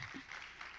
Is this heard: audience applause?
yes